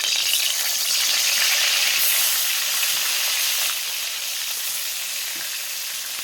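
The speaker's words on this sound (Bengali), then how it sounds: "দেখো আমি তেল দিয়ে দিয়েছি, দিয়ে বেগুনগুলো ভেজে নেবো।" Eggplant slices fry in hot oil in a pan, giving a steady, close bright sizzle that stays loud for most of the stretch and eases slightly toward the end, with no voices.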